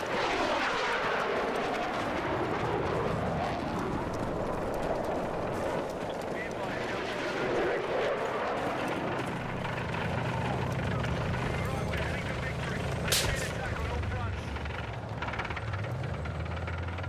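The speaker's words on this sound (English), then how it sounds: "Was that an airplane that just that was an airplane." An airplane in the video game Battlefield 6 roars overhead with a sweeping, rising and falling engine drone that fills the whole stretch, while a voice talks over it.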